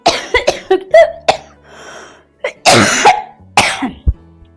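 A person's harsh, repeated coughing fit with throat clearing, close and loud, several sharp bursts in quick succession, then a short pause and more coughs.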